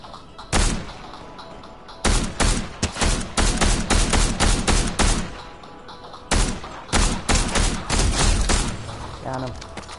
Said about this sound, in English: They were shooting somebody up there.